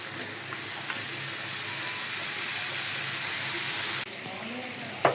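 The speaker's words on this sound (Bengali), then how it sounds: "এখন শুধু সিদ্ধ করার পালা।" Beef with papaya simmering in a pot, a steady broadband hiss and sizzle running unbroken for several seconds, fairly loud and close, with no talk over it.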